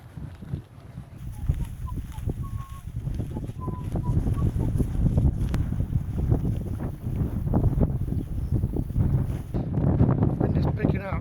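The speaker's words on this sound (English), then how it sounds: "Wind is picking up." Gusty wind outdoors by the River Severn roars and buffets the microphone in a low, continuous rumble, with voices faintly present beneath it.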